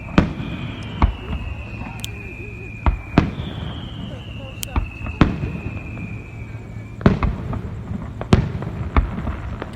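A 4th of July fireworks show in Palm Springs bursts overhead, with sharp distant booms at irregular intervals and the rising whistles of shells, while people murmur and talk nearby.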